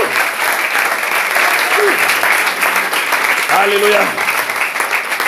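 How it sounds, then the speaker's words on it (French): A church congregation claps steadily through a lively worship service. Voices call out over the sustained, loud applause. "applaudissons pour notre glorieux Seigneur"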